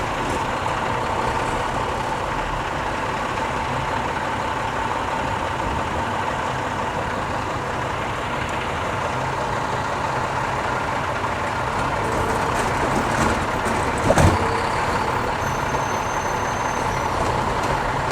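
A solid waste collection truck with a lifting arm runs with a steady engine drone, its hydraulics whining and a brief hiss or clunk near the end, loud and close, no voices.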